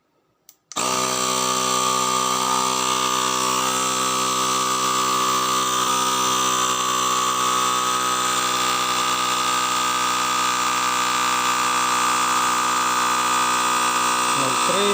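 Built-in air compressor of a 1000A car jump starter pumping, a loud steady motorised buzz with a strong harmonic hum that starts abruptly after a quiet click and runs unbroken to the end.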